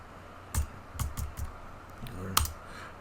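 Keys on a computer keyboard are tapped as text is typed, giving about five crisp, separate clicks at an uneven pace, close and fairly quiet over a soft room hiss with no talking.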